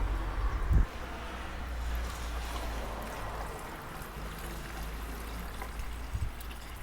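Coolant pouring into a car radiator expansion tank, a soft steady liquid trickle and gurgle heard up close, with a brief knock near the start.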